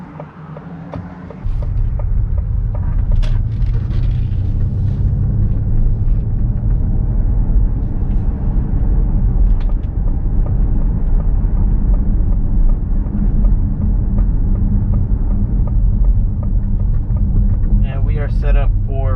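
Steady low rumble of tire and road noise inside a 2021 Ford Mustang Mach-E electric car while driving, with the rear tires rubbing, constant and fairly loud throughout with a few faint clicks.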